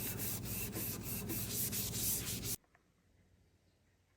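Rhythmic back-and-forth rasping of sandpaper hand-sanding varnished wood, close and steady, stopping abruptly partway through and leaving near silence.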